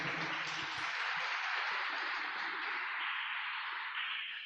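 A church congregation at Mass claps together after a Bible reading, a dense, sustained wash of applause that holds steady and then begins to taper near the end.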